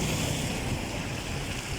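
Flood water rushing around a car, a loud, steady roar of churning water and wind noise that fills the whole moment without pause.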